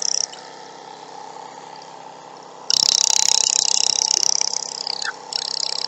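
A homemade air graver at a low speed setting gives a steady, dense mechanical buzz that jumps louder and harsher partway through, then dips briefly and resumes, close and continuous.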